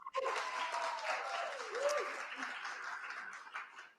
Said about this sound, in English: A little applause, please.